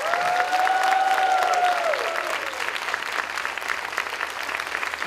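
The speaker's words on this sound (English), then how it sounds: "let's have a huge round of applause for the students of SKG" Audience applause for the students of SKG at a concert, steady dense clapping from a crowd with a sustained tone sounding over it early on, then easing slightly.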